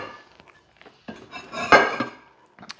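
A bowl being taken out in a home kitchen to serve colcannon, heard as a few close ceramic clinks and clatters of dishware, with one louder knock in the middle and quieter scattered taps around it.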